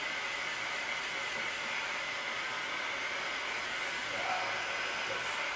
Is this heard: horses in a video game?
no